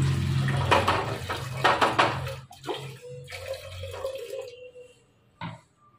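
Water poured into a cooking pot while paneer is being cooked, splashing and gurgling loudly for about two seconds, then fading into softer trickling and a single clink near the end.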